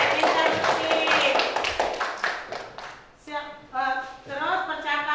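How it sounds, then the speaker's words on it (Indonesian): A classroom of students applauds a classmate with a brief burst of clapping, and a teacher's voice speaks over and after it. "Kasih tepuk tangan dulu buat temannya"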